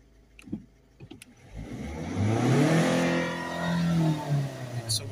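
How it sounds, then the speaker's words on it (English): A Volvo C30 with a 1.6 HDi diesel engine and a blocked particle filter starts up and revs, rising to a sustained climb in pitch and then easing back down, heard fairly close after a few clicks and light knocks. "So we've got full revs now."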